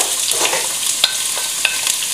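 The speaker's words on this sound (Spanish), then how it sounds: "Echamos la cebolla, la zanahoria y los ajos, que se vayan rehogando." Onion, carrot and garlic sauté in hot olive oil, giving a steady bright sizzle with a few faint stirring clicks and scrapes, close and with no talking.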